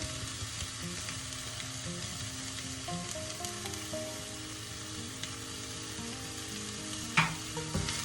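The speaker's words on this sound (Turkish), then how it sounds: "Şimdi içine haşlayıp süzdüğüm mercimekleri ilave ediyorum." Boiled, drained green lentils go into a pan over low heat for a home-cooked dish and are stirred, giving a soft, steady sizzle with an occasional scrape near the end.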